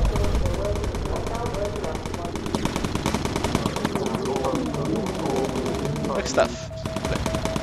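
Rapid machine gun fire in the Bomber Crew aerial combat video game, dense continuous bursts close and loud throughout, with a voice talking over the shooting.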